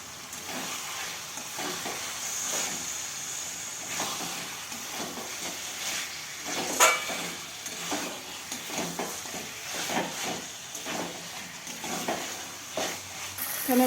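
Chicken pieces fry in a pan with onion, chili powder, ginger, garlic and chili paste while being stirred, giving a steady sizzle with scraping strokes and occasional clinks of the utensil against the pan.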